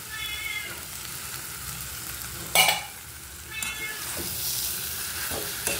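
Chicken curry with fried meat, potatoes and a pre-fried spice paste is stirred in a pan: a soft sizzle runs throughout, broken by a few sharp scraping knocks of the spoon.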